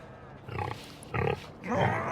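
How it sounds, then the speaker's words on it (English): Pigs on a farm in Farming Simulator 25 give three short, close grunting snorts spaced about half a second apart, with quiet gaps between them. "But they do have pigs over here."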